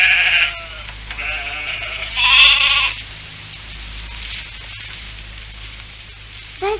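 Cartoon sheep bleats in an animated series, several clear nasal bleats near the start and a louder one around mid-clip, then quieter ambience with a brief final sound.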